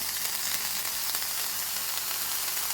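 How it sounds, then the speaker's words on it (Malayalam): Chopped onion sizzles in hot oil in a pan with carrot for a rice lunchbox dish, giving a steady, close, hissing frying sound with no talking. "നമുക്കിതിനകത്ത് ചെറിയ കുറച്ച് സവാള ഇടാവേ."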